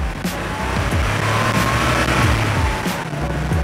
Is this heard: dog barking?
no